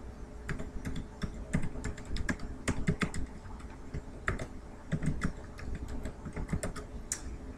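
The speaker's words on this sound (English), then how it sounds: "for email, you're going to go and type in your email." Someone types an email address on a computer keyboard during a sign-up, producing quick, irregular keystroke clicks in short bursts with brief pauses, close-miked and alone, with no voices.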